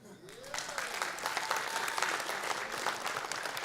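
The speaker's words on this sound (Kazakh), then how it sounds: "бұл өмірде амалсыз шапалақ соғатын екі-ақ жер бар" A studio audience at a Kazakh night show breaks into applause, a dense, sustained clapping that swells quickly and holds steady for several seconds.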